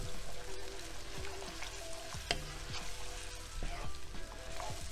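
Curry powder being stirred into gravy in a pan for chicken tikka masala, with a steady loud sizzle and fry crackle throughout and repeated spoon scrapes knocking against the pan, no talking.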